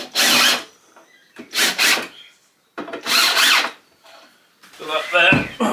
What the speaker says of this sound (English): We can start the screws before we take it over.